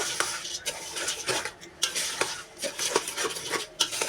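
A spoon stirs and scrapes khichuri ingredients being sautéed in a pot, with repeated metallic clinks and scrapes against the pot over a soft sizzle, close and without talk.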